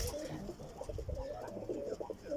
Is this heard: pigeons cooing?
yes